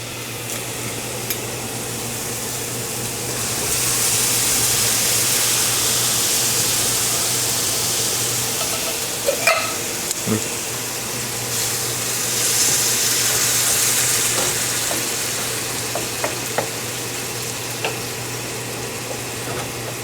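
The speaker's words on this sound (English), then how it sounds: "So let's put in some diced tomatoes." Diced tomatoes added and stirred into a sizzling stuffed pepper filling of cooked rice and parsley: a steady frying hiss that swells twice, with a few scrapes and taps of the spoon against the pan, no talking.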